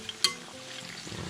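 Squash and shrimp fritters (okoy) fry in oil in a pan, a brief, soft, nearby sizzle with a couple of small clicks.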